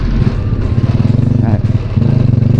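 A Honda Wave 110 motorcycle engine idles loud and close right after its first start of the day, a steady low rumble with a brief dip in the middle.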